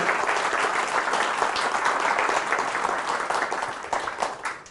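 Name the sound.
audience applause at a church service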